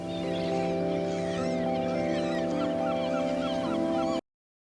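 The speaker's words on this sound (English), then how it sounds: "Seagulls going a bit crazy here." Seagulls call repeatedly in a chaotic, overlapping chorus over a steady droning tone of music or ambience, loud and continuous throughout before cutting off abruptly near the end.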